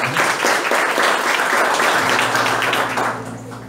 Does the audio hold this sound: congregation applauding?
yes